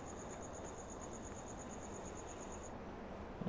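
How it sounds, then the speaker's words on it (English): Crickets chirp in a nighttime Farming Simulator 17 countryside scene, a faint steady high pulsing trill over a soft constant background wash that stops near the end. "Crickets, an owl."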